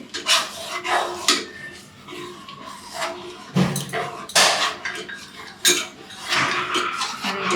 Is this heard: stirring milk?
yes